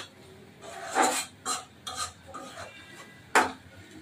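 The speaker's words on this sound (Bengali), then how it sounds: "পরিমাণ মতো মশলা সব দিয়ে দিলাম। এখন আমরা নাড়াচাড়া করব" Spices being stirred in a hot pan for a Bangladeshi dried fish curry, with a few distinct scraping and clinking strokes of a utensil against the metal. The strokes are spaced irregularly over a faint, quiet background.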